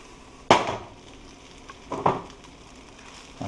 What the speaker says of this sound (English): Nice little slight sizzle